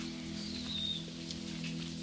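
Rain falling outdoors in the countryside, a faint steady patter with a low constant hum underneath and a brief bird-like chirp.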